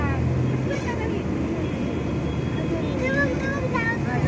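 Heavy road traffic on the way to Virar, a constant dense roar of engines with occasional horn-like tones rising above it, and faint indistinct voices in the mix.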